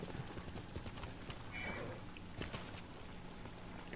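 Rhythmic hoofbeats of a horse clip-clopping at a quick pace in the video game Ghost of Tsushima, with a brief whinny partway through, over steady background noise.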